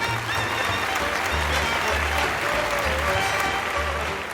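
A circus audience at the Circo de Price applauds the Canarian performer Pinito del Oro, dense sustained clapping from a large crowd with faint low tonal notes underneath, even and continuous.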